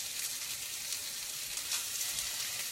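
A red wine reduction simmers and sizzles in a pan, a steady, close, bright hiss of bubbling liquid that holds evenly throughout with no voices.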